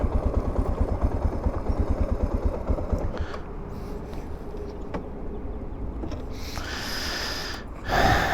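A Suzuki DR650 motorcycle engine idles nearby with a steady, rapid thumping pulse that fades and thins after about three seconds, and a brief louder rustle comes near the end.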